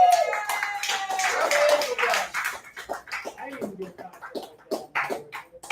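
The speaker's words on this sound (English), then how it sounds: "Give him a round of applause." A crowd claps for a performer introduced on stage at a mock church sermon, scattered, uneven claps and taps rising under an enthusiastic voice, then thinning to sparse claps.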